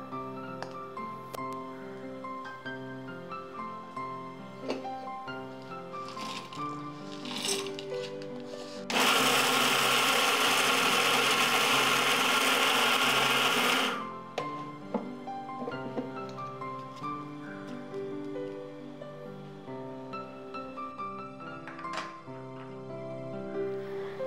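A mixer grinder grinds roasted peanuts, chana dal, urad dal and dried chillies in one loud, dense burst of whirring lasting about five seconds, set against quieter background music.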